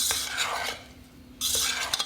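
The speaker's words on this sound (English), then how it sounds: "I might be a little bit more vigorous in my stirring." Spoon stirring berries through a saucy chocolate berry compote in a pot, wet scraping sweeps broken by a short pause, then a louder burst of stirring with small clinks close by, no talking.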